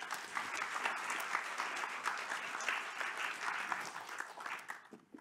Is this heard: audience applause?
yes